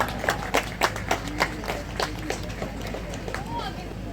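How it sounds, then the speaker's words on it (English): An audience at a school's annual sports meet claps to welcome a guest. The claps come as distinct, rhythmic beats at first, then blur into softer, continuous applause, with voices faintly audible underneath. "Please welcome him with a huge round of applause."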